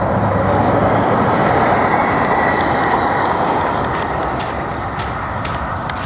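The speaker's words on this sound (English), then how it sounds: "I love the sound of the light rail trains going through." A light rail train rolls past close by on a walk through Lincoln Heights, a loud, steady rumble of wheels on track that eases slightly as it moves on.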